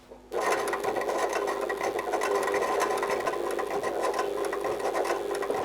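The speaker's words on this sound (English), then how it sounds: "I'm gonna stitch around that curve just as close as I can to the edge" A sewing machine starts up and runs continuously, a fast rattling whir of the needle punching through paper and leather along a curve for a shoe, close and steady for several seconds.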